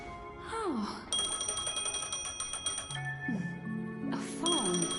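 A phone rings in the video game Honkai: Star Rail, with repeated bright electronic ring bursts and rising and falling tones, mixed with game music and effects.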